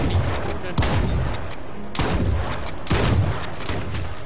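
Gunfire in the survival shooter H1Z1, with sharp shots cracking out roughly once a second in a loose rhythm, loud and close, each followed by a brief rumbling tail.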